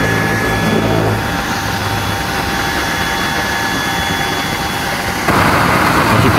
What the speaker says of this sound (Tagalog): Ito nga po ni Tiny kalan.